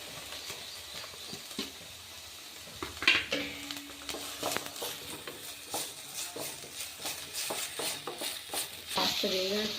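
Chopped onion sizzles and crackles in a small amount of oil in a pan on the stove, with repeated stirring scrapes and clicks over a steady frying hiss, close and fairly quiet.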